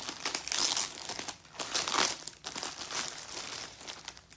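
Plastic packaging around a football jersey crinkles and tears close by in several bursts of crackling rustle separated by short pauses.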